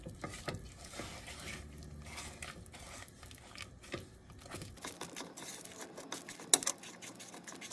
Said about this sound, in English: We're going to stir it up. So they can get combined.